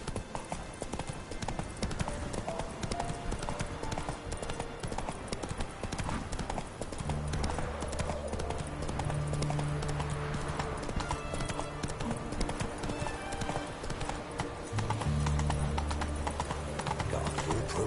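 Roach, the horse in The Witcher 3, gallops with rapid rhythmic hoofbeats on the ground, close and continuous, alongside bursts of game music and ambient clatter.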